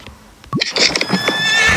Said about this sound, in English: Is this a new horse that I've never seen before?